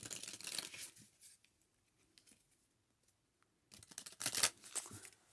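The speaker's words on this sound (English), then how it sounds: "Let's go ahead and shuffle the last deck here a couple of times" A deck of tarot cards being shuffled by hand, two bursts of crisp riffling and flapping near the microphone with a quiet pause between them.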